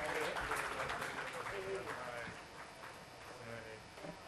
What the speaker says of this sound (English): A round of applause for Ravinder